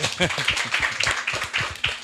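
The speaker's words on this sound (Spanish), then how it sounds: "un aplauso aquí para Aristarco" Rhythmic hand clapping in quick, steady beats, with voices underneath, from an audience at a conference on financial innovation.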